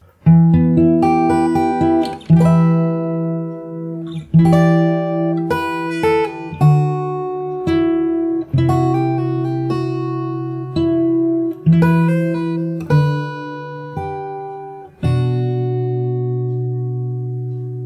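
Fingerstyle acoustic guitar plays a bridge, with plucked arpeggiated chords and bass notes in steady phrases, each attack ringing and fading, clear and unaccompanied.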